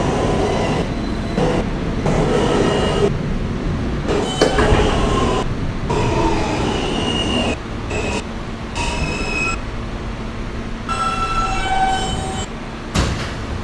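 A New York City subway F local train runs loudly toward Coney Island–Stillwell Avenue, its continuous rumble broken by several high-pitched wheel squeals and screeches heard up close from inside the car.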